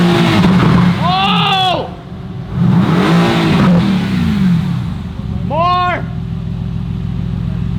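A car engine revving hard in sharp repeated bursts, each climbing and dropping in pitch, close and loud, with people shouting excitedly between the revs.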